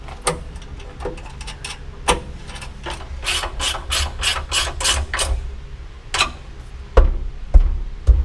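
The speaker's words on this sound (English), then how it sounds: "I don't want to over tighten them, so we need the 1/2-inch wrench" Hand wrench work on lithium battery terminal bolts in an off-grid setup, with a series of close, crisp ratcheting clicks and metallic turns, irregular at first and then a steady run of rapid strokes, followed by a few sharper knocks.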